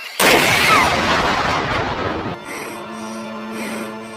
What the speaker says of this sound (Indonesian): beberapa tentara yang semangat pun menembak makhluk tersebut hingga harus tersungkur